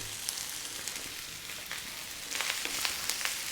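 Cold cooked rice hits a hot pan for potato rice and fries with a steady, close sizzle and crackle, which grows busier and louder toward the end.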